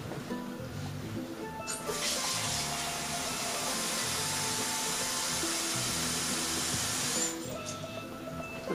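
Water from a tap pours into a cup in a home kitchen during wine racking, a steady hissing rush that starts abruptly, runs several seconds and cuts off, with faint background hum.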